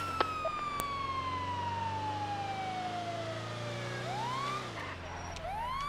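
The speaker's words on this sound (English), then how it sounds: "hopefully the sound of the siren will indeed" A police car siren in a video game set in Los Santos, a long descending wail that turns into rising whoops, loud and steady over a low engine rumble.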